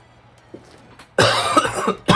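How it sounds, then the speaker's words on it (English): A sudden, loud harsh cough close by, followed by a second cough a moment later, after near silence. "Excuse me, I got a leftover cough."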